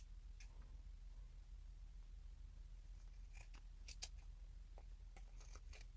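Fabric scissors trim lace edges against a small card, giving a few faint, scattered snips and clicks toward the end over a quiet steady background hum.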